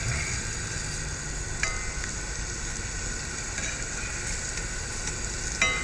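Fried green tomatoes coated in cornmeal sizzle steadily in a pan, a constant close crackle with a couple of faint clinks and no voices.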